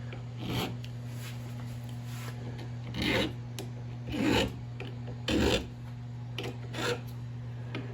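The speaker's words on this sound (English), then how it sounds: "I'm letting the file do the work." Small file rasping the sharp end of a guitar fret, a few light, short strokes spread apart over a steady background hum, close but fairly quiet.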